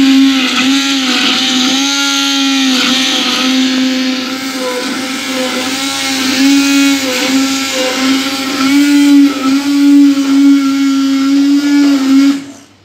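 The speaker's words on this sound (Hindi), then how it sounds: "एक हैंड ब्लेंडर, इसको अच्छे से ब्लेंड करने के लिए" A hand blender whirs through an Oreo biscuit milkshake, a loud, steady motor drone with its pitch rising and dipping as it works, then winding down at the end.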